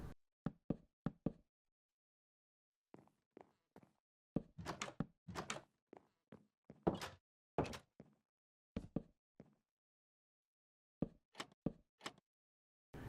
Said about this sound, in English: Then we can add in oak doors at the 6th and 7th block up.